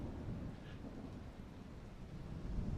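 A distant, faint storm of wind, rain and thunder rumbles low and continuously, with a steady wash of rainfall and no voices.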